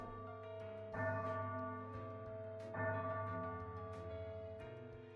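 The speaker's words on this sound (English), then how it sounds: "The bell is ringing." A bell tolls in the video game Stella Sora during a Christmas festival scene, a faint ringing tone struck twice and left to hum and decay over soft background music.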